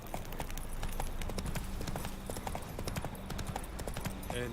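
A horse gallops in The Witcher 3, rapid rhythmic hoofbeats thudding close and loud in a steady running pattern, with a brief stretch of talk underneath.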